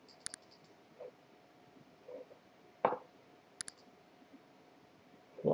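Computer mouse clicks while selecting lines, faces and shapes in SketchUp software: a few sharp, isolated clicks spaced over several seconds, quiet and close, with a couple of quick double clicks and no speech.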